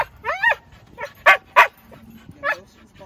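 Young Siberian Husky giving several yips and short barks with a whimpering tone, close by, spaced irregularly across the moment with quiet gaps between.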